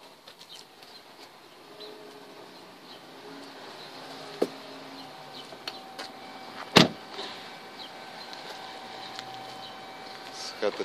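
Power-folding tow mirrors on a 2012 Ram 2500 pickup swing upward with a soft motor whir, punctuated by a few sharp clicks and one loud clack as they lock, under quiet background noise.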